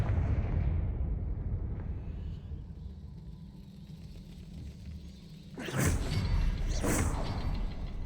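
A Confringo spell blast in Hogwarts Legacy lands as two sharp, loud bursts about a second apart. Both rise out of a low, rumbling ambient drone, which carries on after them.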